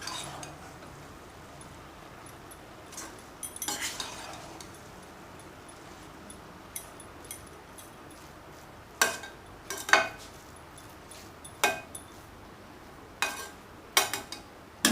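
Spicy semiya biryani with lemon is stirred in a pan, with sparse, sharp spoon clinks and scrapes against metal over a faint, steady background hiss, the strokes coming in scattered clusters.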